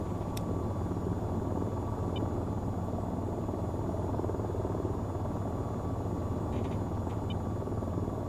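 An AH-94 attack helicopter in the flight game VTOL VR drones steadily with a constant rotor and engine rumble, even and unbroken, with a few faint high electronic beeps over it.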